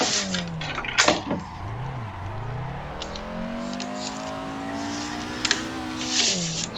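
Low-power car drifting in second gear in the Assetto Corsa racing game on the Ebisu School Course, engine holding a steady rising and falling drone with brief revs and faint tire noise, continuous and fairly close.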